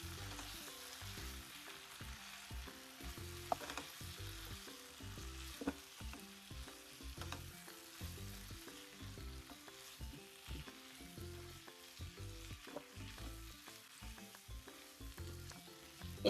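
Chilli chicken mixture sizzling and frying in a pan while being stirred, a steady close crackle with repeated scraping strokes throughout, no talking.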